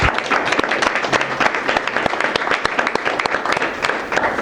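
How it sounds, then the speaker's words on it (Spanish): An audience at a blockchain meetup in an innovation centre claps for the speakers, giving a dense, steady patter of many hands that carries on throughout, close and fairly loud. "ahora les pido un aplauso, por favor, para los ponentes."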